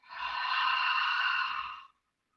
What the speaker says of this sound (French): On expire par la bouche.